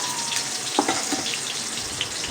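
Onions fry in oil in a wok with a constant close sizzle, broken by a few light clicks and a brief watery crackle.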